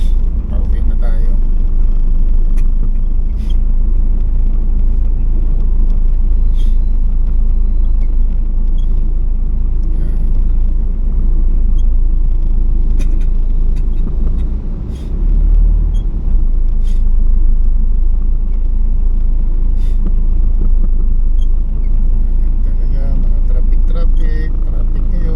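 Road traffic from inside a moving vehicle on a ride home through town streets, a steady low engine rumble and road noise with occasional clicks, under a voice talking throughout.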